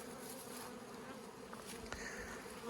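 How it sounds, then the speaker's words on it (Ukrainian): Honeybees at an apiary give a steady, dense hum that fills the whole stretch, with the drone of a few nearby bees passing over the colony's constant buzz. "Пасіка реально загуділа просто тащуся від цього."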